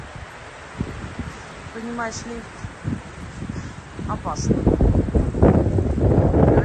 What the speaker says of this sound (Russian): У нас тут ветер поднялся. Смотрите, у нас сосны.